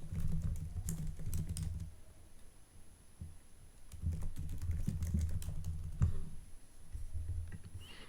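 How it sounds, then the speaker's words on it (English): Message typed on a computer keyboard, a close run of quick key clicks with brief pauses between bursts, fairly loud and alone. "So I go ahead, type my message"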